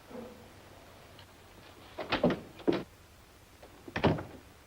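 An office door in a 1950 film opens with a few faint knocking and clicking handle sounds, then a last latch click, set against a quiet room.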